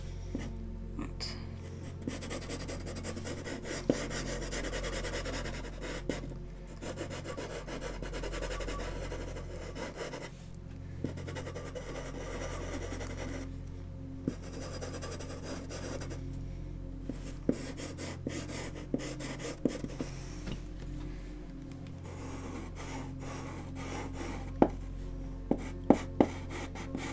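Charcoal dragged across paper makes a soft, steady scratchy rubbing, faint and close, continuing for nearly half a minute under low room hum with occasional light taps.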